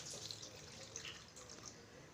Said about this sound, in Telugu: కాసినన్ని వాటర్ వేస్తున్నా